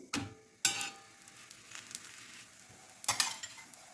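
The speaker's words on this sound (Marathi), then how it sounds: "थोडंसं थोडंसं तूप लावून आपण मस्त चपाती खमंगाची भाजून घेऊ" A chapati roasts on a hot pan with ghee, giving a soft crackle and hiss broken by three sharp, loud bursts of sizzle and clatter as it is handled, with no voices.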